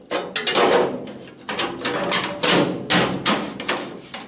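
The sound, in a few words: hammering out a dent in Citroën Traction 11B sheet metal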